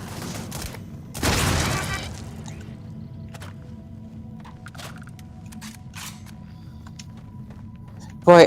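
Turrets open fire inside a twisting cave in a video game: a short, loud burst of rapid shots early on, then low, steady ambience with scattered faint clicks and a sharp hit right at the end.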